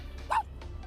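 A person imitates a tiny dog with a single short, high yip, quick and fairly quiet against a faint background.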